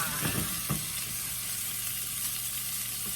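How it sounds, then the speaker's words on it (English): Bacon breakfast roll ups fry in a pan, a continuous close sizzle with a couple of soft knocks from turning them early on, with no talk. "Okay, we're gonna keep on frying."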